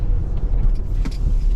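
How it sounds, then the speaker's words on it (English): Turbocharged engine of a 2023 Chevrolet Equinox RS with all-wheel drive accelerates hard, a steady loud low rumble heard from inside the heavy car, with no talking. "this engine is underpowered for this car. It is struggling to get this heavy car up to speed. even with the turbocharger."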